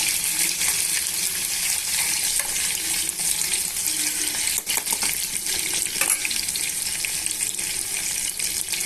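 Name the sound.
chicken frying in a pot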